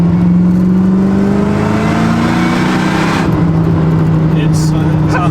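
A supercharged LS3 race truck engine revs hard with a continuous growling drone and a pitch that rises and holds, spinning one wheel nearby.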